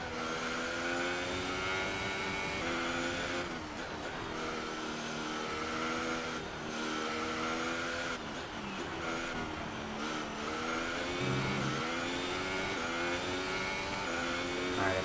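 Ferrari F1 car racing in the F1 2018 video game, its high-pitched engine screaming through repeated rising revs and sharp drops at gear changes, loud and continuous over fifteen seconds.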